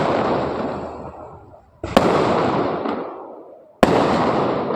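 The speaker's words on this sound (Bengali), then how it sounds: "লাল সবুজ সব মিলিয়ে ফাটছে।" Fireworks bursting at a wedding: a loud, continuous crackling roar that swells and fades, broken by two sharp, close bangs.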